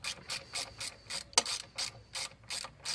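A ratchet wrench loosens the exhaust mounting bolt at the engine base of a scooter fitted with a Bidalot SR1 or SR3 pipe, giving steady rhythmic ratcheting bursts about every third of a second, close and clear, with one sharper metallic click midway.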